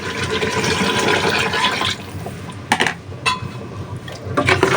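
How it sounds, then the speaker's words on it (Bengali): Water pours steadily into a pan of braising meat with a close, rushing splash for about two seconds, then stops, followed by a few light clinks and splashes. "জলের জন্য পানি দিয়ে দিই"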